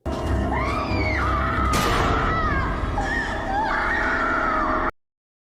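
A woman screams in horror during the film The Doll 2, a loud, shrill, wavering cry that rises and falls over dramatic music and a sudden crash, then cuts off abruptly.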